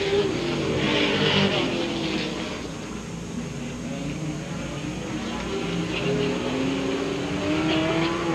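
A race car, number 84, runs its last lap, the engine droning loudly and changing pitch as it passes, with faint crowd or track ambience beneath and no clear talk.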